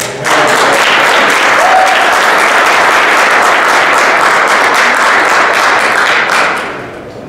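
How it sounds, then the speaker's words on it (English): Audience applause at a Houston Half and Full Marathon press conference welcoming the elite runners, loud sustained clapping close by that holds steady for several seconds before tapering off at the end. "Let's welcome them with a round of applause."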